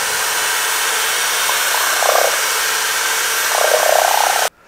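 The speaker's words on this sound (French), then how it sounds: "Et là, on va mélanger la peinture," A power mixer stirs adhesion primer for old concrete pool paint with a steady high-pitched whir, briefly straining a couple of times, then cutting off abruptly.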